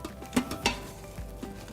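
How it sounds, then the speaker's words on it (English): A cream cheese mixture being stirred by hand inside an Instant Pot for a keto cracked chicken dish: a few soft, separate scrapes and knocks of a utensil against the pot, close by. "we're just gonna stir it all up until all the cream cheese and everything is well combined"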